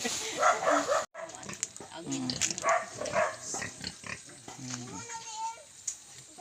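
Native backyard pigs on a Philippine farm grunt and squeal repeatedly at close range, with a voice talking over them throughout.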